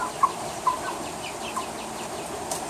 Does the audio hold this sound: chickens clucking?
yes